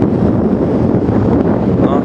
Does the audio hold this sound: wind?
yes